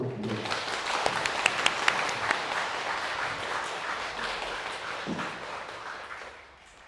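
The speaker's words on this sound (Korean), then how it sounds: "박수로 부르겠습니다." An audience at a dharma talk at Gilsangsa temple breaks into sustained applause, a dense wash of clapping that holds steady and then tapers off toward the end, with some murmured voices underneath.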